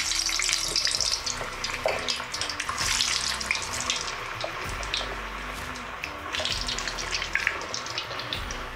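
Potato slices for a Spanish tortilla fry in hot oil at around 180 to 200 degrees, giving a steady bubbling sizzle with scattered crackles that swell and ease without talk.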